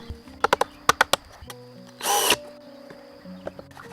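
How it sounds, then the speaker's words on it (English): A power drill shapes wood for handmade chair furniture inside a survival dugout. A brief, loud whirring burst follows a run of sharp knocks and taps, then quieter clatter. "revealing the desired shape using a power drill"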